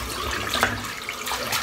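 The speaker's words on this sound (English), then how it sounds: "let's fill the sink back up" Running water from a tap fills a bathroom sink during a wet shave with a razor, a steady broadband rush of flowing water with faint splashing, fairly quiet and continuous with no talk.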